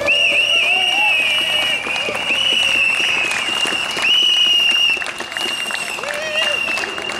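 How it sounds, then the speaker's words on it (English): A crowd at an outdoor press conference ahead of a sentencing hearing applauds and cheers steadily, loud and close, with whistles rising above the clapping and voices mixed into the noise. "Let's make some noise. Please give it up Rex Patrick."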